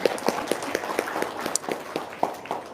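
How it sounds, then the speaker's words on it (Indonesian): An audience clapping, a moderate run of evenly spaced claps under a faint background murmur. "tepuk tangan dulu dong"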